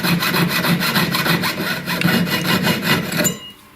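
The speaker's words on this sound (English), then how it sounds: "before you turn your cut, lubricate your blade, keep the blade moving, and then turn it" A fine jeweller's saw blade cuts through metal stock for an oval garnet ring, a loud, steady rasping stroke repeating in quick even rhythm for about three seconds before stopping abruptly.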